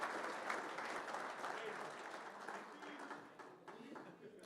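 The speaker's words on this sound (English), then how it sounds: "Just a round of applause for Flavio" Applause from a workplace crowd at a safety kickoff meeting honouring a colleague, steady clapping that slowly thins, with voices talking over it.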